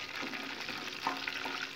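Tofu frying in freshly bought cooking oil in a pan, a steady dense crackle and sizzle with scattered pops, close and continuous throughout, with no voices.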